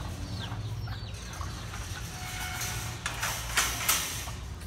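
Chickens clucking around chicken cages on a small farm in San Juan Moncada, Tarlac, Philippines, with a steady rural background and a few louder, sharper calls toward the end.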